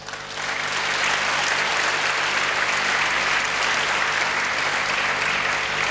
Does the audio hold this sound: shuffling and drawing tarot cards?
no